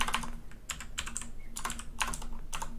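Steady tapping on a computer keyboard while writing plugin code, with short clusters of keystrokes separated by brief pauses. It sounds close to the mic over a low hum, and no one speaks.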